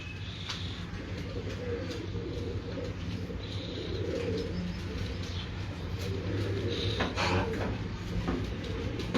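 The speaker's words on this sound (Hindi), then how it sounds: "बहुत ही फेमस कबूतर बटिस्टा।" Pigeons coo softly and repeatedly at a fancier's loft, with low murmuring calls and scattered rustles and clicks over a quiet background, and no one talking.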